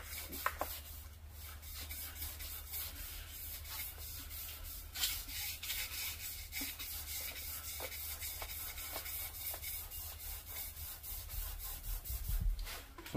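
Sandpaper rubbing and polishing a car crankshaft journal, worked back and forth with a wrapped shoelace, giving a steady close scratchy friction with repeated stroke bursts and no talking.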